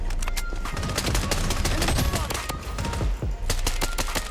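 Rapid gunfire from a VSS rifle in the shooter video game BloodStrike, a dense stream of sharp suppressed shots crackling in quick succession, loud and close throughout.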